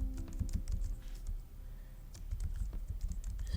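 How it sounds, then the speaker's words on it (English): Computer keyboard typing in a quiet room, a steady run of quick clicky keystrokes with brief pauses, close and fairly soft, with no voices. "if you hear me typing here"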